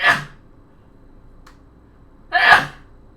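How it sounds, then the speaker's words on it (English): Two sharp sneezes from one person, the first right at the start and the second about two seconds later, each a short explosive burst in an otherwise quiet room with a faint click between them. "I said say hi, and in response you sneezed."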